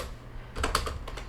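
Brief burst of computer keyboard typing as a command is entered, a handful of quick, close key clicks over a quiet room hum.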